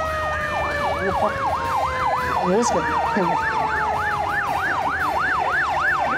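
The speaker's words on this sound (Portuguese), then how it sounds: "E mais ambulância" A wailing ambulance siren sweeps up and down in a fast, regular cycle during a disaster-prevention rescue drill in Japan, loud and close over traffic, with a brief voice partway through.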